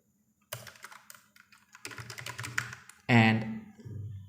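Quick bursts of close-up keystrokes on a computer keyboard while an email is typed into a web form, with a voice speaking over the last part.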